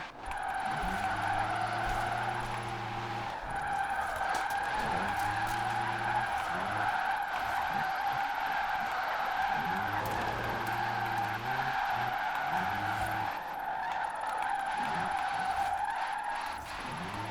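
Rimac C Two electric hypercar drifting in Forza Horizon 4, with sustained loud tyre squeal and skidding, repeated surging drift passes and a high electric motor whine, no talk.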